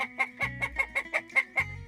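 Hens cluck in a quick run of about nine sharp, evenly spaced calls, close and fairly clear against a quiet background.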